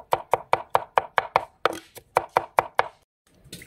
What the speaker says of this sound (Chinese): 把蒜切成末